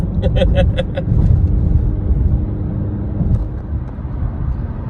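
A car drives onto the New York State Thruway, heard from inside as a loud, steady low road rumble, with a short run of beeping tones near the start.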